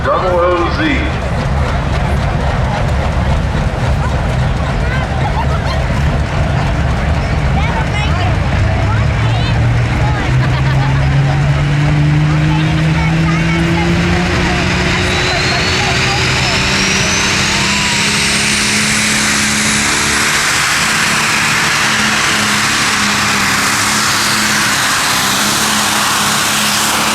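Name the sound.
modified pulling tractor engine roaring down track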